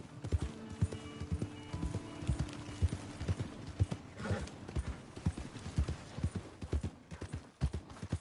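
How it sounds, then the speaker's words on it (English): Steady clip-clop of hooves with a horse neighing partway through, close and clear over a busy background, in the video game Red Dead Redemption 2. "My horse!"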